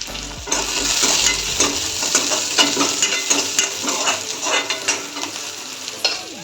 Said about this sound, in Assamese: এইখিনি মই এতিয়া ৰঙচুৱাকৈ ভাজি লওঁ